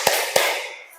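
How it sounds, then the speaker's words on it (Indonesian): A classroom group performs a short patterned spirit clap during a lesson, two sharp hand claps in quick succession followed by a fading room tail. "coba kita tepuk semangat dulu"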